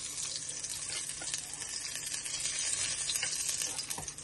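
Eggs and boiled potatoes fry together in a pan, giving a steady close hiss and sizzle with faint stirring and scraping throughout, no voices.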